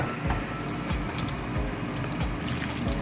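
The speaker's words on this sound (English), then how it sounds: "So the turkey's done. I'm gonna dump that into my clean strainer." Cooked turkey is dumped into a strainer as its juice drains away, a continuous splashing trickle of liquid with soft pattering, close and moderately quiet, with no voices.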